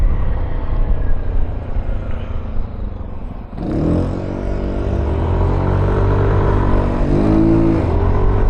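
A Yamaha Aerox 155 V3 scooter with upgraded suspension rides through a drizzly night, its engine droning steadily and then revving up hard with rising pitch, loud and close, with constant road and wind rumble and no talk.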